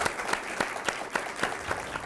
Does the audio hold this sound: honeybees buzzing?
no